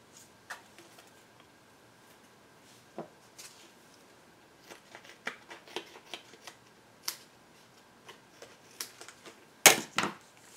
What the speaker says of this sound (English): I am cutting.